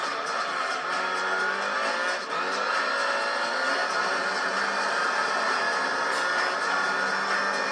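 Race cars, including a Denso Supra, roaring around a track in Gran Turismo 3 during an All Japan GT Championship race, a loud sustained engine drone with shifting revs and no gaps.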